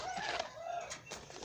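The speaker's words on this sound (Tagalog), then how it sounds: "Ito mga kalapatids." Pigeon chicks a few days old in a breeder's enclosure give brief, thin chirping cheeps, near but faint, with no voices.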